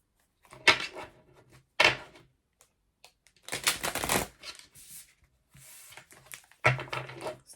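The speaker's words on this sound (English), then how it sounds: "Gotta shuffle backwards so the cards don't bend over" Tarot cards shuffled backwards by hand, heard as several separate bursts of riffling and flicking, fairly close and clear, with short quiet pauses between them and no talking.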